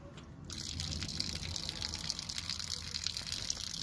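Water gushes steadily out of a wax rendering tank, a continuous hissing pour that starts abruptly and stays even, moderately close, with no voices.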